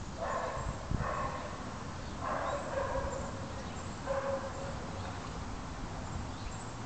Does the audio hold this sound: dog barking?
yes